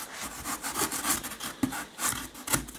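A Stanley-type knife cuts and scrapes at a model rockface, making close, rough rasping strokes in an uneven rhythm with a few sharper scratches.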